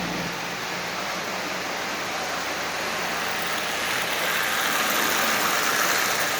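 Marx 1666 plastic toy train locomotive with working smoke generator, pulling a long string of Lionel cars: a continuous, even whirring rumble that swells slightly toward the end, close and with no voices.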